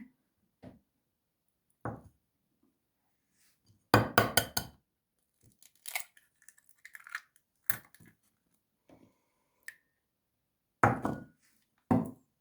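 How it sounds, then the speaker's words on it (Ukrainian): Sharp knocks and clinks as eggs are cracked one by one against a bowl come in scattered bursts, with a cluster of taps and cracks, separated by quiet gaps. "В посудину вбиваю 3 яйця, отак по одному."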